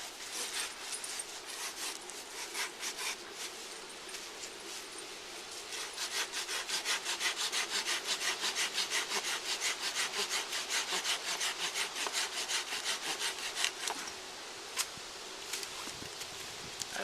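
A hand saw cuts through a wooden walking stick in steady, rapid back-and-forth strokes, close and continuous, with a few knocks near the end.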